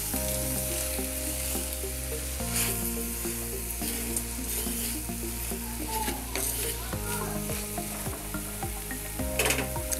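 Ivy gourd and grated coconut stir-fry being stirred in a pan, with a constant crackling sizzle and repeated scraping strokes of a spatula, close and steady throughout, no talking.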